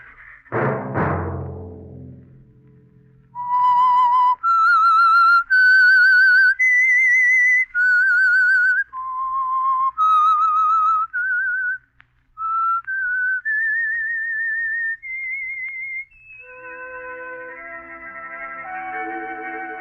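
A lone whistler carries the melodic theme of The Whistler radio drama, sustained clear notes rising and falling in phrases after a short opening sting, loud and close, with orchestral backing joining at the end.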